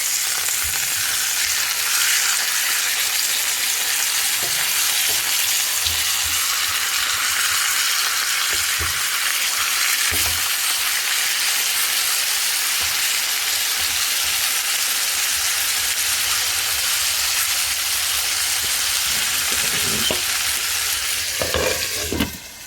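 T-bone steak sizzles and fries steadily in butter and garlic in a pan, a loud continuous crackle with occasional stirring or scraping clinks near the end, no talking.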